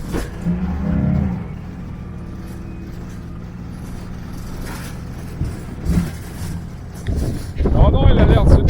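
A 4x4 rumbles steadily across the Wadi Rum desert with low engine drone and wind buffeting, briefly revving near the end, while voices speak over it.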